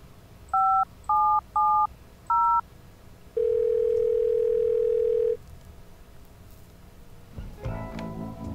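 Cell phone dialing in the Thimbleweed Park video game: four short, evenly spaced keypad tones sound clearly, then a steady two-second tone plays alone before another noise rises at the end.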